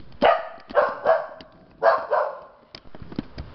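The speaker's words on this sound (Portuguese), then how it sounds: "Tá latindo pra caraca." A dog barks several times up close, loud sharp barks in quick bursts with short pauses, followed by a few softer yips and whimpers near the end.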